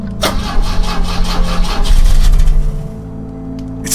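Car engine in the video game The Drifter cranking repeatedly without firing, a loud rhythmic churning of the starter that strains for a few seconds and then cuts out, leaving a low hum.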